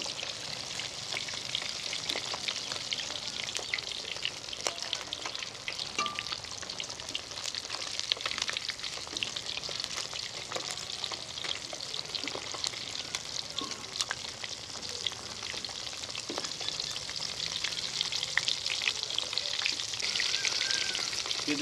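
Fish fries in a karahi with a dense, even crackling sizzle that holds steady and fairly quiet throughout, without voices or stirring knocks.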